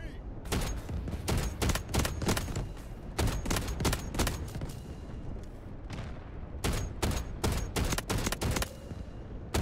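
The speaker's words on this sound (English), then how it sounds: "I need to figure out the firing pattern for this gun." Rapid bursts of automatic cannon fire from an attack helicopter's gun in the video game Delta Force, loud and close, repeating in clustered volleys with brief pauses and explosive booms underneath.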